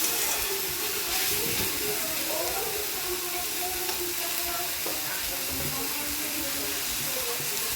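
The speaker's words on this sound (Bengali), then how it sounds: "শাকটা কত সুন্দর ভাজা হয়ে যাচ্ছে" Water spinach (kalmi shak) frying in a pan, a dense, continuous close sizzle with faint stirring scrapes running through it and no one talking.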